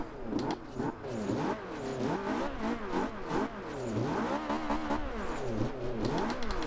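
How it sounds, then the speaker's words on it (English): Loud engine revving in quick rising surges with sharp blow-off valve bursts of released pressure between gear shifts, a turbo car in the video game Forza Horizon 2 pushed hard and continuous throughout. "That engine though, with that blow-off valve."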